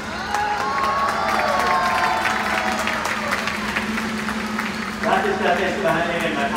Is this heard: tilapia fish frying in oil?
no